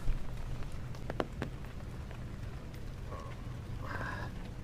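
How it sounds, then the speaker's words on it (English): Steady hiss of heavy rain falling during a morning hike over Hong Kong, a constant wash of patter on surfaces with a few sharper drops and brief knocks, close and fairly faint. "but it's raining a lot harder"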